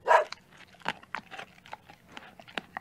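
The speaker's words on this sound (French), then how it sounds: "Ça jappe et ça aboie." A small dog yaps and barks in short, sharp bursts, a loud one at the start followed by several quicker, lighter yelps close by.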